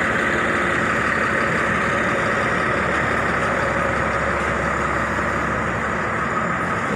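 A PT Putra Simas bus engine idling with a steady, loud low rumble and mid-range drone, unchanging and close up for the whole stretch, with no talk over it.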